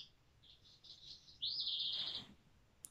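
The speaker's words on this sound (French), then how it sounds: "il y a un oiseau qui est vraiment pas loin de la fenêtre" A bird chirps and sings just outside a closed window, a series of short tweets followed by one louder sustained trill close by, with a faint click at the end.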